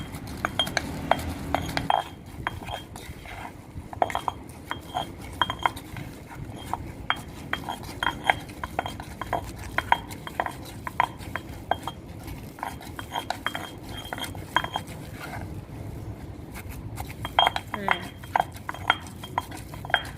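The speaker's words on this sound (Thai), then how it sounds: "คลุกเคล้าให้เข้ากันดีเลยนะคะ" Thai chili paste ingredients mixed together with a utensil in a bowl or mortar, a steady run of close clinks, taps and scrapes, with brief talk near the start.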